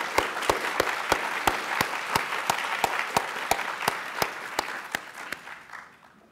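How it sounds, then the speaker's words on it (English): Lecture audience applauding honoree Dr. Chang at a bioethics lecture, a steady crowd applause with regular prominent claps, gradually thinning and fading out at the end. "please join me in giving Dr. Chang a round of applause"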